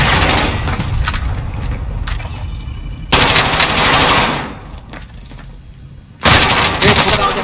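Gunfire in Call of Duty: Warzone comes in loud, close, rapid machine-gun bursts separated by quieter gaps, with faint voices underneath.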